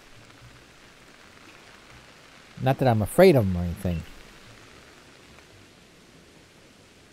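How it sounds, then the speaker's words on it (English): Steady rain patters over the landscape in Pokemon Legends: Arceus, a soft even hiss running the full length while someone speaks briefly in the middle. "Great, it's raining."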